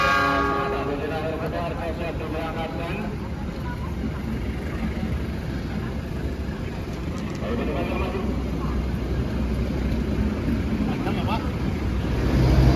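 An economy-class passenger train pulls out of a station on the route from Bandung toward Yogyakarta, its steady rolling rumble building toward the end. A person talks over the noise.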